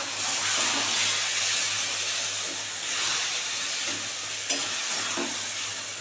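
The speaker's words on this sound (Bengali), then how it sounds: "এটাকে এবারে সুন্দর করে নাড়তে হবে" Black taro leaves are stirred as they fry in a pan, giving a continuous hissing sizzle with soft, rhythmic stirring swishes close by and no talking.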